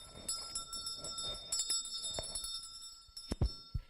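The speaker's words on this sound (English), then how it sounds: "Ring the bell. Ring it loud. Ring it really loud." A small bell is rung repeatedly to clear energy in a room, bright ringing strikes with sustained shimmering tones and a few sharp clanks near the end, close and without talk.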